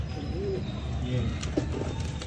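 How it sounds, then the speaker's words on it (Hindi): Soft, low pigeon cooing sounds a few times over a steady background hum, faint and somewhat muffled, from two pigeons inside a room in Karachi. "लगता कबूतर की आवाज है।"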